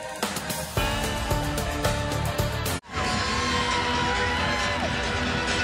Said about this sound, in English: not the largest crowd here in Williams-Brice Stadium, but certainly full of energy on a cool, crisp evening